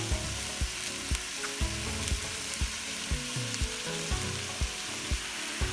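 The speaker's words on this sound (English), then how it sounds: "we got the honey and it's like simmering up on the bottom" Honey-glazed Brussels sprouts sizzle in a pan, a dense steady hiss broken by regular knocks and scrapes from stirring, close and continuous with no voices.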